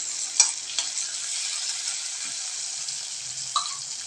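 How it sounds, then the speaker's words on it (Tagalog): Onion, tomato, chili and garlic sauté in a pan before clams are added, giving a constant close sizzle with a few sharp clicks and scrapes of stirring over it, no speech heard. "naggisa tayo ng sibuyas, kamatis, sili, at bawang."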